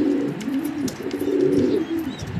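Male grizzle racing homer pigeon cooing loudly nearby in one long, continuous rolling coo that rises and falls, with no voices over it.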